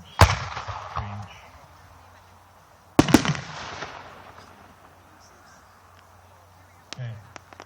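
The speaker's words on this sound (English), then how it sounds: "This is a pair of young fung shells, Nishiki Kamaros to crackling fireworks." Two 3-inch Nishiki kamuro firework shells transitioning to crackling fireworks burst loudly, each sharp boom followed by a long decaying shimmer, with a softer pop near the end; distant outdoor setting.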